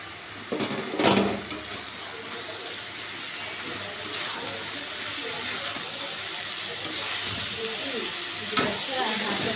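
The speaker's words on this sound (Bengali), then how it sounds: "আর অপর চুলায় আমি ভাজি বসিয়েছি, পেঁপে ভাজি" Papaya and potato bhaji fries on a stovetop with a steady low sizzle, broken early by a few louder clatters and stirs, then a continuous hiss close by.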